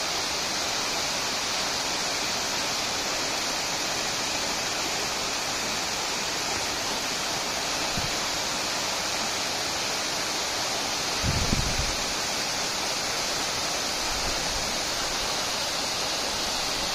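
Dense, continuous roar of a waterfall near a tribal village, loud and close, with steady white rushing water and a couple of brief low thumps partway through.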